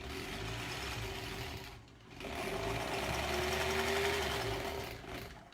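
A home sewing machine hums loud and near as it stitches strips for a granny square quilt, running almost continuously with one short dip in speed partway through.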